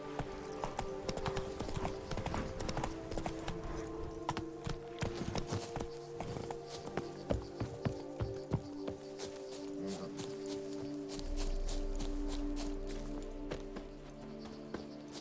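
Horse hooves in The Witcher 3, a rapid, steady clip-clop of galloping on ground with a faint low rumble joining near the end.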